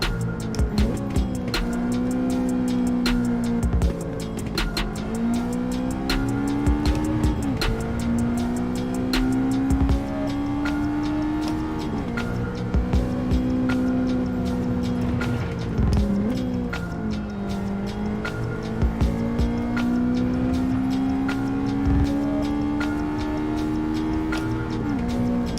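A race car in the Gran Turismo 7 video game, with a sustained loud engine note that rises and falls through gear shifts, along with occasional tire squeal, continuous and alone.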